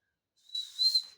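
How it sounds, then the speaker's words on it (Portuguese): A toy whistle blown at a lively town-square children's event, a shrill sustained tone with a rising warble, sounding twice close by after a short silence. "o próximo que tocar esse apito é um bobalhão"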